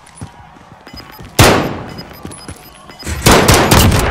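Gunfire in the Call of Duty: Warzone battle royale game: loud, close bursts of shots cracking out in two clusters, trailing into a rattling tail, with quieter game sounds and faint electronic tones between.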